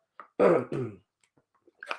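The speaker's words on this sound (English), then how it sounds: "just clear my throat there again real quick" A man clears his throat with a couple of rough, low rasping bursts, followed by a short breathy exhale, close up in a quiet room.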